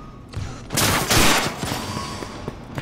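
Gunfire in the video game Cyberpunk 2077: a dense, loud burst of rapid shots, swelling in the middle and easing into scattered lighter pops, heard alone without talk.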